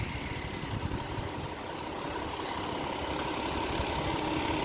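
New Fairfield fire engine, Engine 6, rumbles with a steady, continuous diesel drone outdoors in a residential neighborhood, loud and unbroken throughout.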